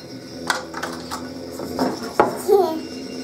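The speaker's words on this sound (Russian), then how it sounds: "Ты ж бьется твоя жабка об тарелку." A few light clinks of a small toy frog striking a plate, with a voice and chatter around the knocks.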